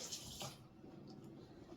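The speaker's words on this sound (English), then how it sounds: "I'm going to add a little bit of water to it" Water pours into a pan of sweating onions with a brief splash and a steady soft hiss and sizzle that continues quietly, with no talking.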